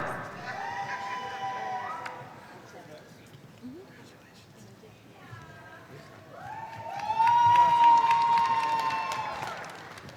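Graduation audience at a university fall commencement for business bachelor's graduates cheering and applauding, with crowd noise swelling loudly toward the end under excited shouts.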